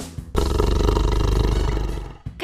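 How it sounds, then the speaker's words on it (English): A tiger gives a deep, rough roar that is loud and close. It holds steadily for about two seconds and then cuts off. "A tiger makes a grr sound."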